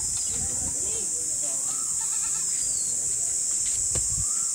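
Goats bleat a few times at a busy goat market, fairly distant and mixed into crowd chatter and steady background hiss.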